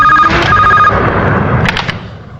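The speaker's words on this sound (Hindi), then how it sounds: "तो मिस्टर विशाल की माँ का फोन है, वो आपसे बात करना चाहती है।" A telephone rings in a Bollywood action movie scene, its bright repeating bell tones loud over a dense background rumble, then breaking into a few short bursts before fading.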